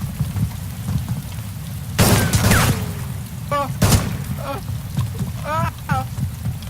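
Gunfire in the video game DayZ: two sharp loud shots cracking out amid a rainy, thundery backdrop, with players talking over the game sound.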